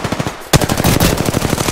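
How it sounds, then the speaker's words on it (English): Rapid automatic gunfire in the battle royale video game Apex Legends, a sudden loud burst of fast evenly spaced shots that starts after a brief lull and keeps going to the end, with no talking. "Shots fired and they're hitting me!"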